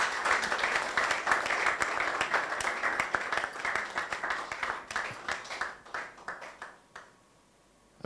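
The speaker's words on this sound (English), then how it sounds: "Round of applause for them." An audience applauds designers at an African fashion event, clapping loud and dense at first, then thinning into scattered claps before fading to near silence.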